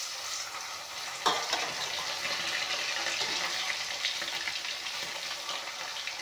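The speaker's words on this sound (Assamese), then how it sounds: "এতিয়া মাছখিনি ধুনীয়াকৈ কেৰাহীত দি ল'ম।" Pieces of fish rubbed with salt and turmeric sizzle steadily in hot oil in a kadai, a dense, continuous crackling hiss heard up close with a small splash at the start.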